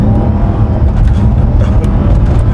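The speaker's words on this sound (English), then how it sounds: "We're drifting over here today." A wide-body Dodge Challenger revs hard while drifting, its engine a loud, sustained roar close by with no break throughout.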